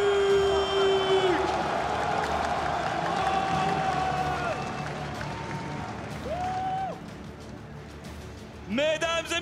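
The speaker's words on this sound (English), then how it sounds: "une dernière salle d'applaudissements pour le Fnatic" A large indoor esports arena crowd at a League of Legends semifinal in Paris applauds and cheers, with sustained voices and whoops rising and falling, loud and reverberant throughout.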